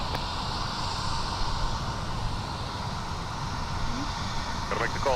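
An Envoy Embraer 175 LR jet rumbles at MSP airport, a steady distant engine roar with broadband wash, heard alone at moderate level.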